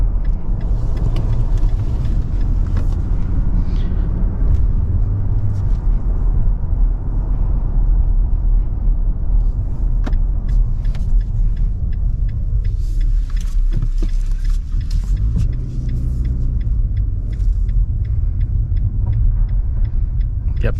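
A 2022 Nissan Frontier PRO-4X pickup drives slowly through a tight turn, its engine giving a steady, loud low rumble with road noise and faint interior clicks throughout.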